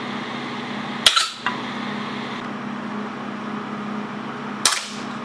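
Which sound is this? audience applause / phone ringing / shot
shot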